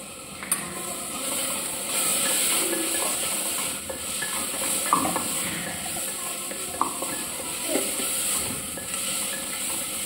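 Ginger garlic paste fries in a pan with a steady, close sizzle, while a spoon stirs and scrapes against the metal in occasional soft knocks.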